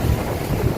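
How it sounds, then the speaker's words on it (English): Wind at Hellshire Beach in Portmore, heard as a loud, close buffeting roar across the microphone with broadband rushing noise. "out here windy."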